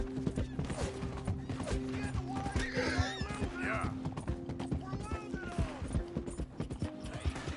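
Horses galloping in Red Dead Redemption 2, hooves pounding in a rapid, continuous clatter alongside creaking tack and mechanical rattles, with a voice talking over the busy, close-up mix.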